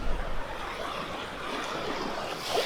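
Surf washing against a rocky, dangerous beach at Malpe near Parashuramana island, a soft continuous rush of water with wind noise on the microphone and a slight swell at the end, fairly faint and with no talking.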